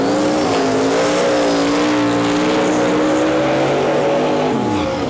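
Roaring engines at a no-prep drag race, a roughly 1,700 wheel horsepower Acadian against a Mercury Marquis: loud, sustained howl with rising and shifting pitch, dominating the scene without speech.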